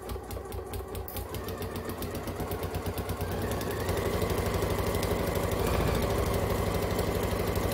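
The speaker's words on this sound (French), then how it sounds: "Et là, en fait, on va coudre jusqu'au bout. Tout le tour." A sewing machine stitching all the way around a fabric oven mitt: a loud, steady, fast mechanical hum with a rapid needle beat that speeds up and holds constant, close by.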